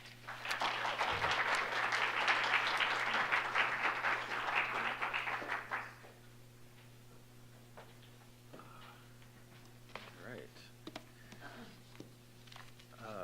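Applause welcoming a lecturer to the podium, with a dense, steady patter of many hands clapping for about six seconds before it fades into a quiet room with scattered small noises.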